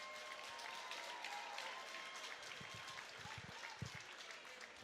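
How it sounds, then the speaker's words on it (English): A crowd at an MMA event applauds two fighters after a bout, a fairly faint continuous clapping wash in a large venue with a few low thumps and some indistinct voices beneath. "let's have a round of applause for these two great fighters"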